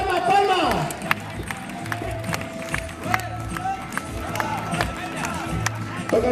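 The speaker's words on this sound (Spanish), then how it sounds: "¡Vamos a darle palmas!" Crowd at a recortadores bull festival in Madrigal de la Vera clapping in a regular rhythmic beat of sharp, evenly spaced claps, with a loud announcer talking over it.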